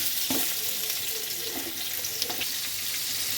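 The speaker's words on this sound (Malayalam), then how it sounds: "സവാള ഒന്ന് വാട്ടുക." Sliced onions with a little salt sauté in ghee in a pan for fried rice, giving a soft, steady sizzle with occasional stirring scrapes, fairly quiet and close, no talking.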